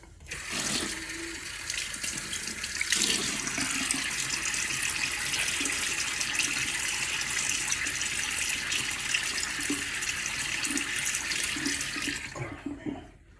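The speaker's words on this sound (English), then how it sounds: "let me get my face wet." Tap water running steadily into a sink while a face is wetted before a shave with a badger brush, a soft continuous splashing stream, close and alone, cutting off at the end.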